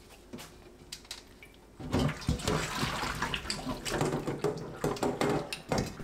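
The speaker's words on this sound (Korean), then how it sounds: "펼치고 참외 위에 뜨거운 물을 골고루 부어주세요" Hot water is poured over salted Korean melon pieces spread in a sieve, a soft splashing and draining that starts after a quiet moment and carries on steadily, close up with small clinks.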